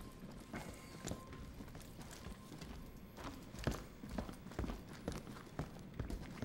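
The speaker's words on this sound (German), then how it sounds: "ich höre auf jeden Fall oben die ganze Zeit Schritte" Footsteps on the floor upstairs in the tactical shooter Ready or Not inside a run-down drug house, irregular muffled thuds and knocks repeating across the stretch at moderate distance, with no talking.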